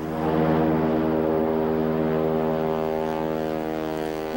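A float plane taking off from a lake roars with a steady, loud, droning propeller engine, its harmonic hum sustained and close throughout with no talk.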